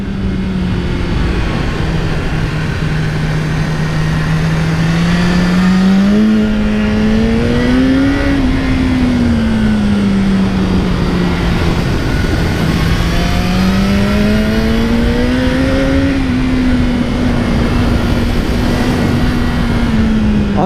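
A 2018 BMW S1000R motorcycle rides through bends, its engine droning steadily and loud with the pitch rising and falling as it accelerates out of each curve and backs off, strong wind noise over the top and no talk.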